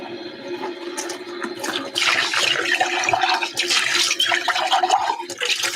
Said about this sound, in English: So we dump out the milk and rinse out the pitcher.